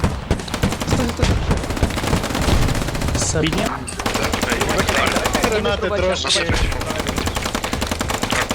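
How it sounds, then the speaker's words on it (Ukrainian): Loud, rapid bursts of automatic gunfire in the video game Squad rattle almost continuously, with a brief voice speaking over them. "Та от же китайці стріляють"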